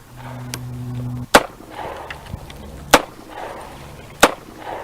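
Three sharp, loud gunshot impacts on glass protected by window shield film, spaced about a second and a half apart, each a crisp crack over a low hum and quiet background noise.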